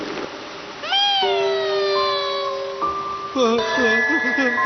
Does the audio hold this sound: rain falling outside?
no